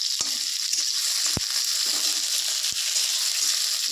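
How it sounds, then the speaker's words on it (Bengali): Chopped garlic and onion frying in oil in a pan, a constant close sizzle broken by a few sharp knocks of a spatula. "এই যে রসুন কুচিটা দিয়ে দিলাম"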